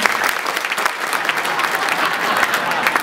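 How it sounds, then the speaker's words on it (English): Dense audience applause at a celebration, a steady wash of many hands clapping close and loud throughout, with no voices standing out. "Can you give me a big round of applause?"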